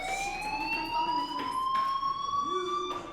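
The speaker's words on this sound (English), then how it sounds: "Hey, do you hear that fire alarm?" An electronic fire alarm in the video game Life Is Strange sounds a steady, sustained high tone that holds across the whole stretch at a fairly loud level, with faint background noise underneath.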